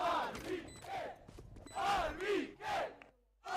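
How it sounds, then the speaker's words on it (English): Esports arena crowd at a Valorant Challengers playoff match chanting in rhythmic waves, loud and close, with voices rising and falling in repeated bursts before a brief lull. "And you can see the chants too in the crowd."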